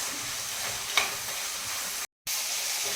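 Bitter gourd curry with green chillies and salt stirred in a hot pan: a steady, soft frying hiss with one brief scrape of the spoon, close and unaccompanied by speech.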